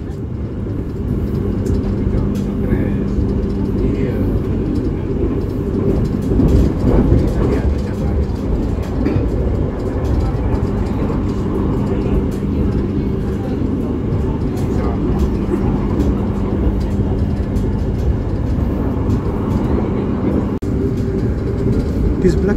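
Argo Wilis passenger train running on rails between Surabaya and Bandung, heard from inside the carriage as a steady, loud rumble and hum of wheels on track with a faint tonal drone, continuous throughout.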